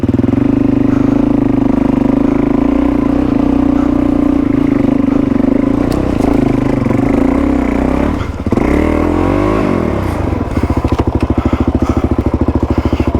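A Suzuki DRZ400E dirt bike engine laboring up a rocky fire trail in Australia, a loud, close, steady drone that strains and wavers midway before settling into a rapid pulsing beat at the end.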